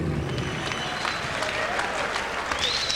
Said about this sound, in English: How about, gang, a big round of applause for your new champion, Lovemore Ndou.